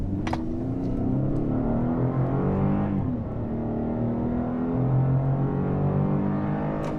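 A 2022 Chevrolet Colorado ZR2 off-road truck driving at around 50 mph, with a steady engine drone that rises and shifts through the gears, plus road and tyre rumble heard from the cabin. Nobody speaks.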